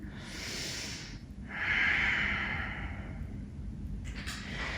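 Slow, deep breaths during a yoga practice: an audible hissing exhale, a pause, then a long, louder breath through the nose, close and alone without talk.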